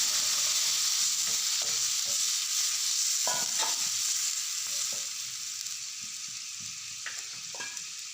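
A spice mix of cumin and coriander powders sizzles steadily in a pan for an Assamese ginger-leaf fish dish, with occasional spoon scrapes and clinks, the frying hiss softening slightly as water goes in.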